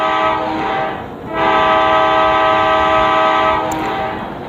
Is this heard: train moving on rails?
yes